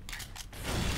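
Elevator mechanism in Left 4 Dead 2, a faint mechanical creak and scraping clatter in short bursts, followed by a rising low rumbling hum of machinery.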